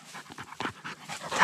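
A dog pants in quick, rhythmic breaths, close and clear, a short run of huffing exhalations with no talking over them.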